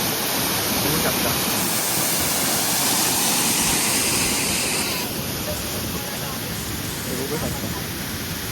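A hidden waterfall on the Koraigad trek gives a loud, steady roaring rush close by, a dense wall of noise that softens slightly after the midpoint and continues without a break.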